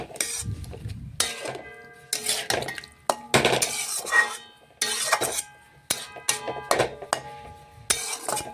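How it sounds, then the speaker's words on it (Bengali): Boiled jackfruit stirred with spices in a cooking pan, with a spatula clanking and scraping against metal in irregular bursts of clinks and knocks, close and fairly loud, with no speech. "মশলার সাথে ভালোভাবে মিশিয়ে আবারও কিছুক্ষণ আমি এঁচড় রান্না করে নেব।"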